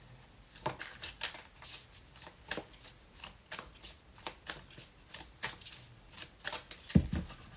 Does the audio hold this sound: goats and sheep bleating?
no